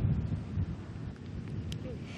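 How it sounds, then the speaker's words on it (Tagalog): Rain and gusting wind from Typhoon Pepito in Catarman, Northern Samar, as a steady low rumbling roar with wind buffeting the microphone, continuous and fairly loud for the whole moment. "patuloy ang nararanasang pag-ulan at minsan ang paglakas ng hangin"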